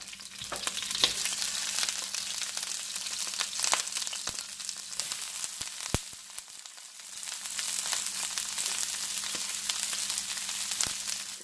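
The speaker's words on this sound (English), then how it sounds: "To the pan, I'm going to add the broccoli just like so." Broccoli sizzles steadily in a hot pan, a dense close crackle throughout, dipping briefly midway, with scattered sharp clicks and spits over the frying.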